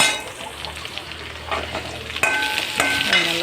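Onions sauté in a pan with bell pepper for a ridge gourd gravy, a soft sizzle under occasional spoon scrapes and clinks against the pan, growing a bit louder midway.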